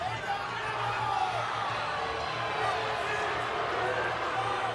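A crowd at a Penn State vs Nebraska men's college wrestling dual gives a steady, distant roar of murmuring with scattered shouts and whoops, and voices talk over it.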